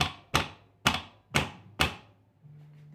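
A part is tapped down into place while assembling the washer box of a Brastemp Super Luxo washing machine: five sharp, evenly spaced knocks, close and fairly loud, each ringing briefly, with no talk.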